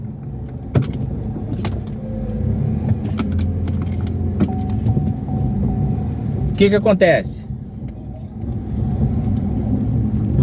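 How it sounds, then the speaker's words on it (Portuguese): A car with a worn wheel bearing drones with a low, steady rumble while being driven, a continuous road roar running throughout, with someone speaking over it and a brief rattle partway through. "O carro tá muito ruim, tá roncando o rolamento."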